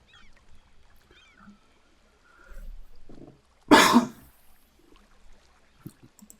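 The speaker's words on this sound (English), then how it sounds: "Yeah, I still have a cough." A single loud adult cough bursts out near the middle, close and brief, between quiet stretches with faint background sounds.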